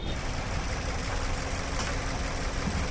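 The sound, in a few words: Maruti Suzuki Ciaz car engine started and idling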